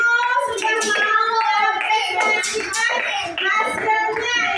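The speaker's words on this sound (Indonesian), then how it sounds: "tepuk tangan untuk teman-temannya tadi yang sudah mau maju" Children in a classroom clap their hands together in a busy, overlapping patter, mixed with lively children's voices chattering throughout.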